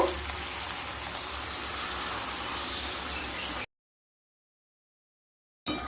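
Water is added to pumpkin-greens stems and vegetables cooking in a pan for a Bengali chorchori, giving a steady, close sizzling hiss for a few seconds before the sound abruptly drops to silence.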